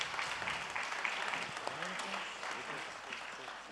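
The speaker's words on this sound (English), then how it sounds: "Also an applause, please." Clapping from the audience at a vocational excellence award ceremony runs steadily throughout, fairly soft and diffuse, with a voice speaking faintly beneath it.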